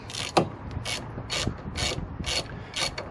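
Ratchet clicking in short repeated bursts while rear brake caliper bolts are nipped up on a first- or second-generation Mini One, Cooper or Cooper S, about six quick sweeps of clicks, close and fairly quiet.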